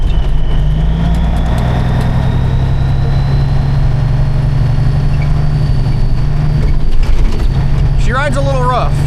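International 8200 truck engine driving on the road, a steady loud low rumble running throughout with a brief shift in tone near the end.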